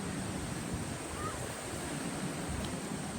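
Steady ocean surf washes in as a continuous, moderately loud broadband roar with wind rumbling underneath, with no distinct breaking crashes and no voices.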